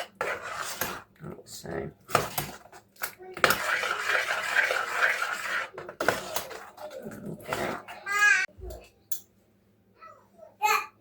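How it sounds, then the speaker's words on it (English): Lasagne sauce stirred in a pan, clattering scrapes and knocks of a utensil against cookware in irregular bursts, with a voice and brief talk mixed in. "And then we just give that a really good stir."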